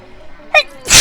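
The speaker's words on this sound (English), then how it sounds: "Apologies for that sneeze, I probably forgot to cut it out." A single sharp human sneeze, close and loud, preceded by a brief quick intake of breath and bursting out at the very end.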